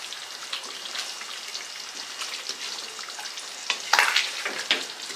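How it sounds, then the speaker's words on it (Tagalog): Chicken curry bubbling in a pot on the stove, a steady close-up crackle and sizzle of rapid popping bubbles, with a few louder spurts near the end and no talking. "Kumukulo na siya."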